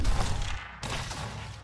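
A rapid burst of heavy automatic autocannon fire in Dome Keeper, briefly cut off then resuming, loud and dense.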